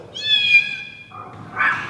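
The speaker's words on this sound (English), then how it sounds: "here you can actually play cat sounds on the exterior" A synthetic cat meow played through the exterior speaker of a Zeekr X electric car, a stretched, tonal mew followed by a shorter, brighter second call, loud and close with no talking.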